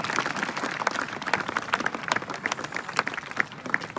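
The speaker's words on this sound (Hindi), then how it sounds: "जोरदार ताली बजाओ श्याम के लिए।" A group of students claps for a classmate, a brisk, uneven patter of hands at moderate volume that continues throughout.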